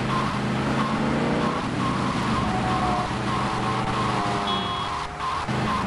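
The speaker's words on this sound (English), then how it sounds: "the engine sound is very satisfying." A car engine in GTA Vice City drones loudly and continuously, its pitch rising and falling as it shifts gears, with a brief tire squeal.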